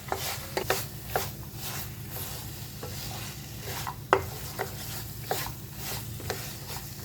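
Soya chunks and green chickpeas stir-fried in a pan with spices, a steady sizzle under repeated scraping and clinking strokes of a spoon against the pan at an irregular pace, close and fairly loud, no talking.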